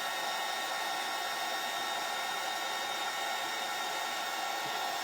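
Hair dryer blowing on painted bunny craft pieces, a loud continuous rushing whir held steady and close for the whole stretch.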